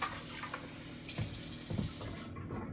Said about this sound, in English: I put some water and rinse my chicken off.